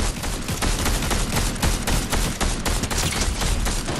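Rapid, loud gunfire crackles nonstop in Fortnite, shots fired in quick bursts through trees, a dense, rhythmic volley with no pauses across the whole stretch.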